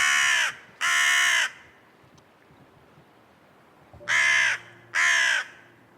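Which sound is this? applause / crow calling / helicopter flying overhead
crow calling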